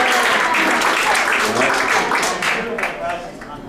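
An audience at a magic show gives a volunteer a round of applause, clapping that swells and then fades over a few seconds while voices talk over it.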